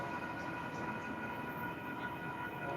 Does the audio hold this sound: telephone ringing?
no